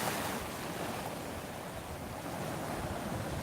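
Waves wash in and pull back over a rocky beach, the shifting stones lost in a steady, dense roar of surf and wind that stays loud and unbroken throughout.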